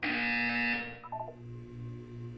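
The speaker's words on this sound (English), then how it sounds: "You will hear a buzzer." A single loud electronic buzzer tone sounds for nearly a second during an instructed wellness exercise, then cuts off and leaves a low, quiet hum.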